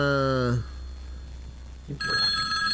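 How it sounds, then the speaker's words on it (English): A phone rings twice during a live car-race gambling show, a bright electronic tone with a brief gap between the rings, loud and close, and a person speaks in the pause. "Is that my phone again?"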